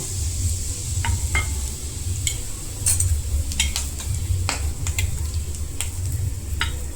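Whole spices, a cinnamon piece, five cloves and split coriander seeds, sizzle in hot oil for a Gujarati raw mango and jaggery curry. The crackle is steady and close, with sharp pops and spoon clinks scattered throughout and no talking.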